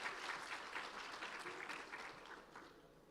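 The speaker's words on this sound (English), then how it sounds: "A huge round of applause to both of them." An audience at a youth conclave applauds chess champions, a crowd's clapping that starts strong and slowly tapers, moderately distant and fairly quiet with no speech over it.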